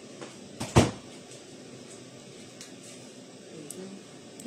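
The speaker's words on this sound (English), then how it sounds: "Should I close the door?" A door is pushed shut indoors with one solid thump near the start, followed by faint room noise and a few small knocks.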